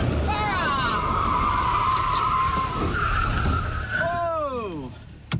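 A car driven fast in reverse in a straight line, its tires squealing loudly and continuously with a long skid, the pitch wavering and sweeping down near the end over steady engine roar.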